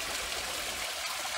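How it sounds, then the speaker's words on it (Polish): Small forest waterfall tumbling into a pool, a steady, close rush of falling water filling the whole clip with constant hiss and low rumble, no voices. "prywatny wodospad."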